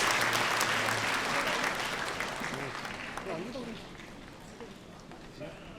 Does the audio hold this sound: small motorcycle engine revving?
no